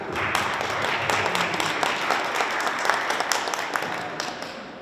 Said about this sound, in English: Let's applaud Dr. Kamala Ego for his exceptional contributions to society